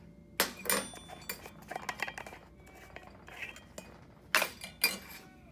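A small quarter-cup metal measuring cup clinks and scrapes against a jar while cream is skimmed for butter, making several sharp, separate taps with quieter rattles between them.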